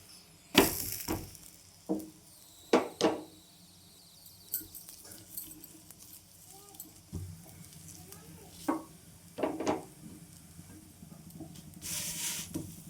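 Batter roasting in oil over a low gas flame for a high-protein breakfast dish: a soft, steady sizzle broken by sharp scraping and pressing clatters from a spatula, close up, with no one talking.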